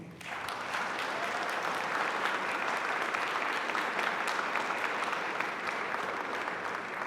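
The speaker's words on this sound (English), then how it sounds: "It looks like you're giving me a standing ovation." A large audience at a Department of Justice commemoration applauds the Attorney General, a steady, dense wash of clapping that holds at even loudness throughout.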